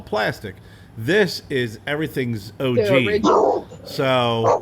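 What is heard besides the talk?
dog from next door barking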